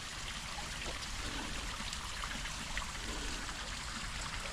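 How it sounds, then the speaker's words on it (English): Small waterfall trickling down a rock face beside a road in the New River Gorge, a steady close wash of falling water with no voices. "A little bit of a waterfall trying to form back there from over the years."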